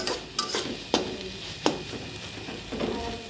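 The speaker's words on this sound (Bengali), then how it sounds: "এভাবে নেড়ে চেড়ে ভালোভাবে মিশিয়ে নেবেন।" Taro leaves stirred and mixed in a pot with a spoon, giving sharp, scattered metallic knocks and scrapes against the pot at an irregular pace over a soft, wet background.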